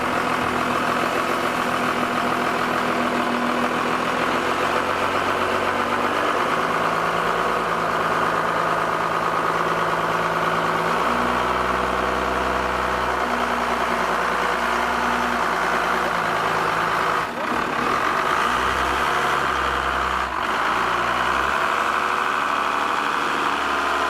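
A Cummins diesel engine idles steadily and loudly, a low rumbling drone with changing tonal layers and a couple of brief dips near the end.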